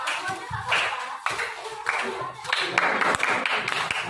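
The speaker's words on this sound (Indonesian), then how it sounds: "Tepuk tangan untuk kelompok." A classroom group receives applause, a burst of scattered clapping from students that starts and stops in uneven patches, with some voices talking beneath it.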